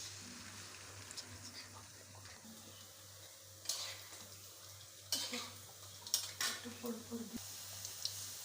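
Puffed-rice sweets fry in hot oil in a wok with a faint, low sizzle, punctuated by several sharper clinks and scrapes of a utensil against the pan.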